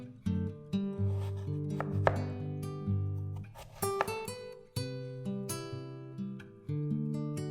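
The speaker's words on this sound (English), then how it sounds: "peel the potatoes and cut them up into cubes about the size of the luncheon meat" Peeled potatoes being chopped into cubes on a cutting board, a series of crisp knife strikes at an uneven rhythm, close and fairly quiet, with no talking.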